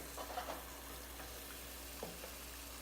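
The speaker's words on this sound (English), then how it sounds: "So they're being fried inside now. You can see them being fried." Potato balls frying in hot oil give off a faint, steady crackle and hiss with a few soft pops scattered through it.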